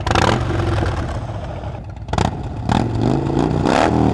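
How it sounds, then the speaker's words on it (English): A Harley-Davidson Crossbones V-twin revs hard through a Vance and Hines exhaust, loud and close, its throaty roar rising and dipping through several blips of the throttle. "Vance and Hines just sounds so right."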